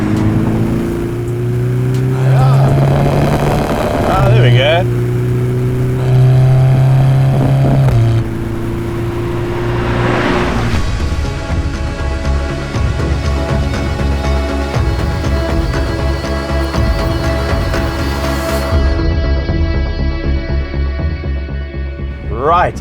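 A Volkswagen Golf R with a VR6 engine accelerates hard along a race track's main straight, its engine note climbing through the gears with loud, rising revs and a brief shift break, while a voice speaks briefly over it.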